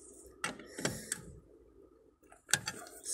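Car wheel nuts being loosened with a wrench make a few sharp metallic clicks and ratcheting knocks, close and fairly quiet, separated by short pauses.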